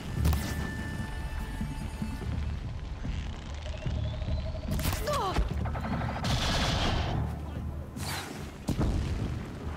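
Repeated booms and fiery bursts come from combat in the video game Horizon Zero Dawn, with a dense, noisy rumble and scattered sharp hits spread across the clip under continuous gameplay sound.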